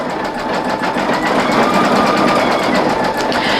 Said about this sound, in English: I'm going to let this machine go ahead and continue stitching the satin stitch